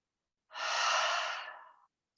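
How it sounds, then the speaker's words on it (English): A single deep, full breath drawn in during a slow movement and energy balancing practice, lasting over a second and tapering off softly, close and quiet with no talking. "take a nice full breath"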